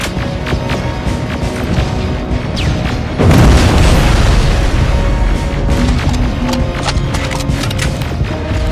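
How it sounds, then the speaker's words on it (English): Rockets streaking in and exploding in Terminator: Resistance: a steady battlefield din with scattered sharp cracks, then a heavy close blast that leaves louder rumbling and debris behind it, no voices. "Rockets! They're heading this way!"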